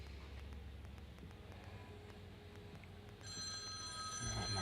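A telephone bell rings out loud and near, cutting sharply over a faint background hum partway through the clip.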